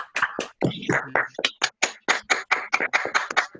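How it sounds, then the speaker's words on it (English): A small group of video call participants clapping one after another, producing sparse, uneven individual claps with short gaps between them. "if everyone can take their, just take yourselves off of mute and a little round of applause"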